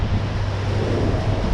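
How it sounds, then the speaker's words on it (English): Ocean waves and steady wind roar around a 54' Aquila yacht far out at sea, a loud continuous wash with heavy wind buffeting and no voices. "We're out here in the middle of the ocean."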